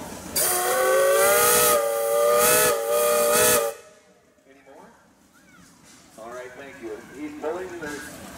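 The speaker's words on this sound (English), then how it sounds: "Bill, do you have a whistle" A loud steam engine whistle at a pioneer engineers parade blows in long harmonic blasts with brief breaks, then cuts off, leaving faint voices talking in the background.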